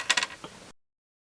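A small screwdriver turns out Phillips screws on a salvaged dumpster find: a quick burst of several close, dry clicks and a creak, lasting well under a second before silence.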